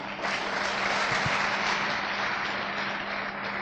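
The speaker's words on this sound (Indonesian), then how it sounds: "Tepuk tangan buat Bapak Ferdinand Fadil." Sustained audience applause for a guest speaker at a seminar event, a steady wash of many hands clapping at even loudness from start to finish.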